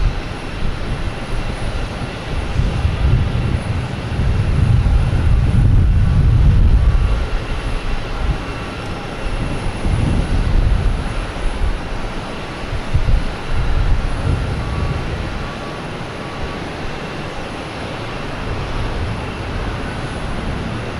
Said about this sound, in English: Next coming in is a JetBlue flight 1652 from Orlando,